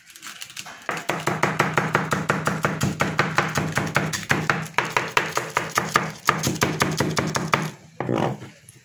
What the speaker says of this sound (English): After this, I'm going to cutting the cabbage salad.